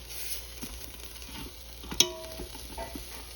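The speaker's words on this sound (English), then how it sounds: "now it's time for us to flip these pork chops over" Pork chops being flipped in an air fryer basket: a soft background sizzle and faint scraping, with one sharp metallic clack midway, all fairly quiet and close.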